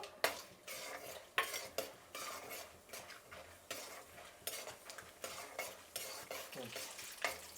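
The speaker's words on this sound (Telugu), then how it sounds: "ఇప్పుడు వేరుశనగలు వేసుకునేద్దాము." Peanuts, urad dal and chana dal fry in hot oil with mustard seeds and cumin as a spoon stirs them, scraping the pan in steady, repeated strokes over a soft sizzle.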